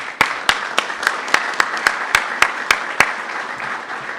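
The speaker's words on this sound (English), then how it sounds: "That was a really good practice applause." Practice applause from a summit audience in Washington D.C., heard as a string of about a dozen sharp, evenly spaced claps ringing out clearly against a quiet room, with no talking.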